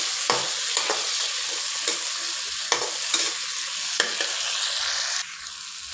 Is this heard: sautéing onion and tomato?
yes